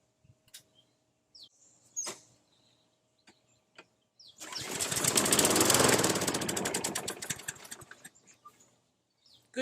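An old Craftsman lawn mower engine coughs and catches, sputtering loudly for a few seconds before dying out, with scattered handling clicks and knocks before and after.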